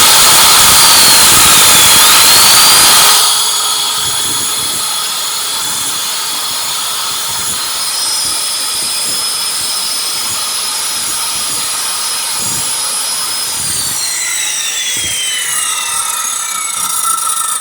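A 2.3 horsepower, 12 amp electric saw runs steadily with a loud, high whine for a few seconds, then drops away. Faint rattles and scraping knocks follow, and nobody speaks.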